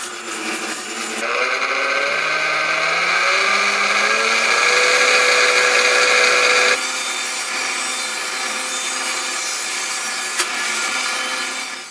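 A Vitamix Series 300 or 500 blender whirs loudly while making pesto, with the pitch climbing as speed rises and then dropping partway through, plus scraping rub from a tamper pushing food onto the blade.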